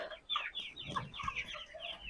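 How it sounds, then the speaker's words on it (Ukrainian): Several roosters cluck and chatter nearby in short, overlapping bursts, fairly quiet, with no talking. "А це півники."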